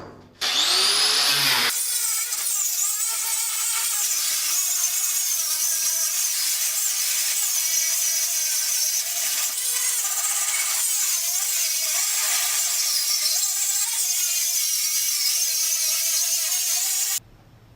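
A rotary wire brush scrubs surface rust off a piece of expanded steel for a truck tailgate, a loud continuous high whirring scour that starts abruptly, holds steady for about fifteen seconds with slight wavering, then cuts off.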